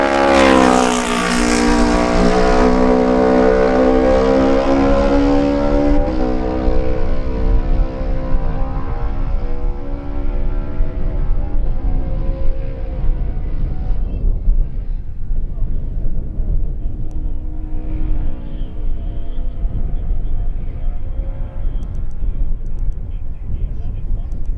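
A racing motorcycle, number 9 ridden by James Chalk on a Phaeton in a Manx Grand Prix Lightweight race, roars past close and loud, its engine note sliding steadily lower as it moves away and fades into the distance.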